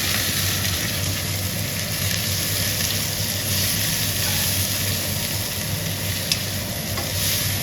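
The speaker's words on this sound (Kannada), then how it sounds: "ಆನಿಯನ್ ಚೆನ್ನಾಗಿ ಫ್ರೈ ಮಾಡ್ಕೊಬೇಕು" Onion fries with salt in a pan, a dense, steady sizzle and crackle heard up close and unbroken, with a faint low hum underneath and only a slight stir scrape.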